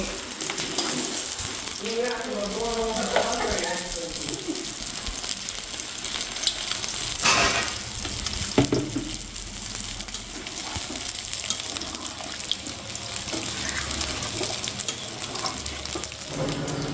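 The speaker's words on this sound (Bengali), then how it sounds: "তার পাশাপাশি মাছ ভাজা হচ্ছে, এটা মাছের ঝোল হবে" Fish sizzles steadily in a pan for a fish curry. The frying is close and continuous, with brief stirring and water-like sounds and a short voice early on.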